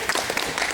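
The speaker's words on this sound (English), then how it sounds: "I think we should clap for our example." A small group at a coaching training session gives a brief, light round of clapping, a quick patter of scattered hand claps close by but fairly soft.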